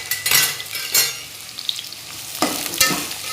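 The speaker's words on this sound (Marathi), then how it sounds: "आता त्यात आपण सगळ्यात आधी कांदे टाकून घेऊ।" Four chopped onions dropped into well-heated oil on a low flame hiss and sizzle steadily, with sharp bursts of louder crackle and spoon stirring scrapes near the start, middle and end.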